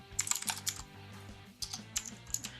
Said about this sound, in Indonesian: lalu kamu bisa ketik di situ download